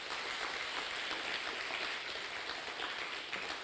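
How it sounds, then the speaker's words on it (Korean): Audience applause welcoming a deaf worship team from Uzbekistan at a church, a steady, soft and somewhat distant wash of clapping with no break. "박수로 한번 맞이해 주실래요?"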